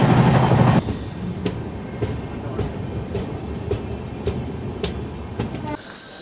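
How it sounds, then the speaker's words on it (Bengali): The Azad Hind Express from Pune to Howrah runs at about 125 km/h, heard from inside a 2AC coach as a steady rumble with a regular clickety-clack of wheels over rail joints, after a brief louder burst at the start. "এখন চলছে আমাদের ট্রেন 124-25 কিলোমিটার পার আওয়ার বেগে"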